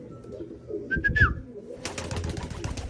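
Pigeons released for recall training make soft cooing and fluttering sounds outdoors, with a brief whistle-like call near the middle followed by steady rustling and wing noise.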